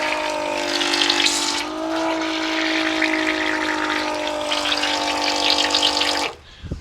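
A small Milwaukee M18 battery-powered transfer pump hums steadily while water gushes and splashes out, continuing for several seconds before the motor cuts off near the end.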